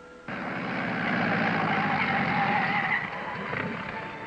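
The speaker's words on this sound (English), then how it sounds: "That was a motorcycle." A single motorcycle roars past at close range, engine droning loud and steady before easing off as it moves away.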